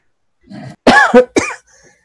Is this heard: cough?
yes